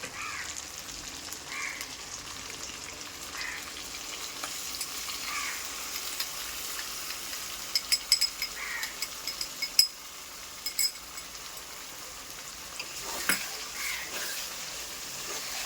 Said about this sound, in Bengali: যতক্ষণ না এর সাইড দিয়ে তেল ছাড়ছে না ততক্ষণ এটাকে আমাকে কষাতে হবে